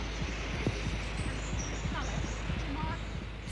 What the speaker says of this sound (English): He put a tiny microphone under the egg of a sitting tern to listen to its heartbeat.